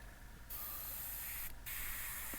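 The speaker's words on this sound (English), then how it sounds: "I can control the airbrush." An airbrush sprays primer onto a Tamiya de Havilland Mosquito model aircraft, giving a steady close hiss that comes in two bursts separated by a short pause.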